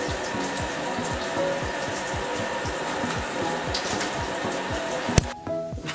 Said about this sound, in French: je vais prendre ma douche